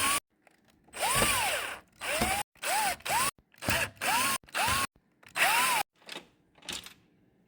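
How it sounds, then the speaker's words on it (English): A power screwdriver removes screws from a PS5 console in a series of short whirring bursts, about eight separate runs, each rising and falling in pitch, with brief silences between them. "So first, let's open 11 screws."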